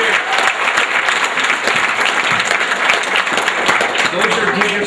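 Warm, sustained hand of applause from a fire department banquet crowd after the meal, dense clapping throughout at moderate loudness, with faint murmuring voices mixed underneath.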